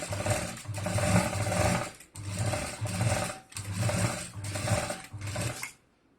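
A sewing machine stitches a zipper onto a side bag in five loud, close bursts of rapid mechanical whirring, each separated by a short pause, ending in silence.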